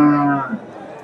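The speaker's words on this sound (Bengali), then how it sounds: "এখানে একটা দেখেন দেশি গাভী" A large local dairy cow at a Dakumara cattle market lets out a short, full-throated moo up close, its low lowing fading within half a second into faint crowd murmur.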